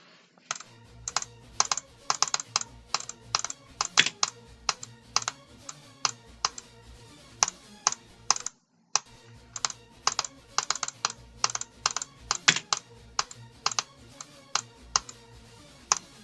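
Computer keyboard typing in quick, uneven bursts of crisp key clicks, close and fairly loud, with a brief pause midway and no speech over it.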